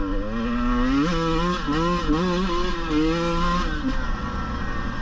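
A 2022 KTM 150 TPI two-stroke dirt bike engine revs hard and close, its pitch climbing and dropping through several quick throttle blips and shifts over a few seconds.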